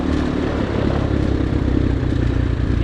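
An X-Pro Storm 250 motorcycle out trail riding, its engine droning steadily and fairly loud with a rough, clattering texture that lasts the whole stretch, no talk.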